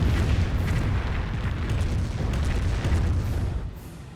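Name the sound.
landmine detonation in Company of Heroes video game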